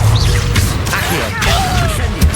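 A summoning spell cast during combat in Hogwarts Legacy on hard mode, a dense magical whoosh with swooping, rising tones over a busy wash of battle noise and impacts, loud and continuous, with a voice heard in the mix.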